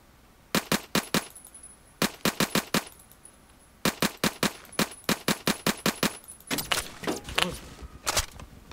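Bursts of automatic gunfire in the online shooter Phantom Forces, King of the Hill mode on a new map, come in rapid loud volleys with short pauses between them and a denser run of shots near the end.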